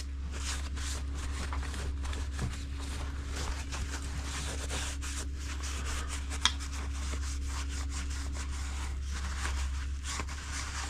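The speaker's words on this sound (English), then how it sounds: "A little bit of brake clean just to wipe down the surface again" A rag wiping down an engine surface with brake cleaner on a Yamaha XS650 motorcycle, repeated soft scrubbing and rubbing strokes over a steady low background hum.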